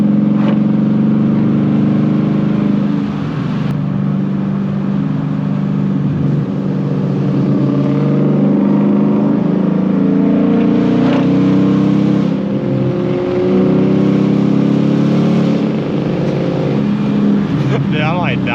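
A Ford Mustang GT, S550 or New Edge, drones steadily in third gear at around 3,000 rpm, a loud sustained engine tone heard from inside the cabin with a voice talking over it.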